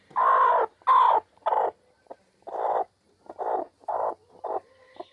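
A broody hen screams in loud, harsh, raspy squawks, about nine separate bursts in an uneven rhythm, close by and with no talk.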